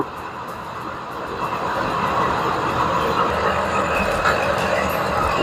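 Steady rumble and rattle inside a carriage of the old Meghna Express train on the Chandpur line in Bangladesh, a continuous broadband roar that grows slightly louder, with no clear talk over it.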